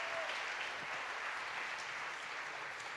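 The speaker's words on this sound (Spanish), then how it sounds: "Denle un aplauso a mis actores voluntarios." Steady applause from an audience at a church service, honoring volunteer actors, a dense even patter of many hands clapping continuously without pause.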